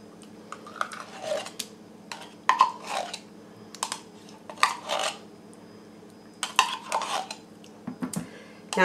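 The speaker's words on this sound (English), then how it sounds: "So I'm going to go ahead and add this tomato paste in." Canned tomato paste is scooped and scraped into a crock pot for herbed spaghetti sauce, producing intermittent soft clinks, scrapes and thuds of utensil against can and pot.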